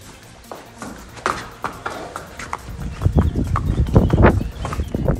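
Horse hooves clip-clopping at a steady walking pace, growing louder and closer toward the end, with light rustling and no talking.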